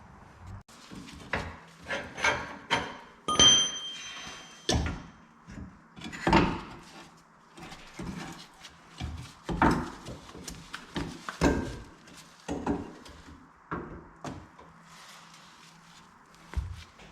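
Intermittent metallic clunks, knocks and scrapes as a bolt is pulled out and an air suspension shock is removed from a Land Rover Discovery 3 (LR3), close up and unhurried with pauses between sounds.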